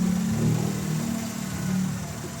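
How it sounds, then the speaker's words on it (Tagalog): A Mitsubishi Mirage engine with a seized, rusted brake piston runs steadily nearby, a continuous low hum with slight swells in revving, heard alone without talk. "Pa-start ko muna itong makina"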